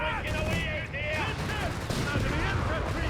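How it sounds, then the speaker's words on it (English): A Matilda tank's 2-pounder gun firing in the Company of Heroes 3 video game, heard as repeated sharp battle bursts and booms under continuous commentary talk. "they're bombarding German troops with the 2-pounder gun"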